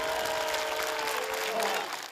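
A record 50,000-strong crowd at an Anzac ceremony breaks into sustained applause and cheering that drowns out heckling, a dense, steady wash of clapping throughout.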